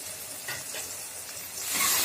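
Whole cumin, whole coriander, black peppercorns, salt and a ground spice paste sizzle in hot oil, making a faint, brief hiss that swells louder near the end.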